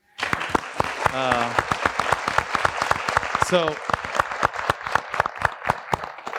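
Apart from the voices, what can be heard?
applause for a teacher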